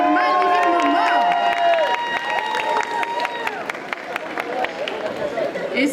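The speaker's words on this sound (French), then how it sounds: "Et on applaudit quand même le petit sbire" An audience at a cosplay contest during the Rennes Japan Manga Wave convention claps and cheers steadily, with a host's voice speaking over the applause.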